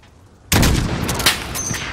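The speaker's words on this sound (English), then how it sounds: "Those shots came from the highway!" Sudden loud gunfire near a highway in Call of Duty: Modern Warfare, an abrupt sharp blast followed by a sustained rattle of shots and a second crack, with no talking.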